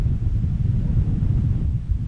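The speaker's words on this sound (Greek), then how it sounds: "Εδώ πέρα φυσάει λίγο" Wind gusts across a hilltop near a castle above the village of Devín, roaring steadily and loud in the low end across the whole stretch with no voices.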